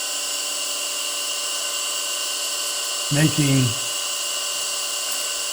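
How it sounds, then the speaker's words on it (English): Wood being turned on a lathe while hollowing ornaments, a steady high-pitched whine running throughout with a short, rough rattling burst of chatter near the middle. "This piece of wood is going to chatter a lot because I'm making 3 ornaments out of this piece"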